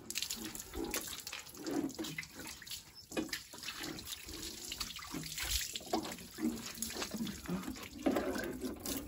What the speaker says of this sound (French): Un petit coup de rinçage là.